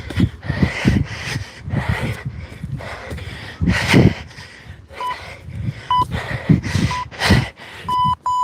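An interval timer gives a series of short electronic beeps about once a second, heard over heavy breathing and exertion sounds during a kettlebell and cardio HIIT workout.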